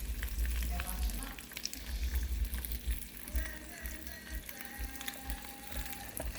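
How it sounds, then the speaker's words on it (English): Spam slices browning in a pan coated with cooking spray, a steady close sizzle and crackle of frying running throughout with occasional scrape and stir noises. "so I'm going to brown my spam"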